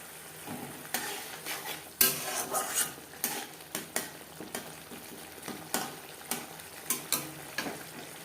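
Spices, including ground cumin and coriander, fry in oil in a pan for a drumstick curry while a utensil stirs them. Steady sizzling runs under a regular series of scraping strokes, close and fairly loud, with no talking.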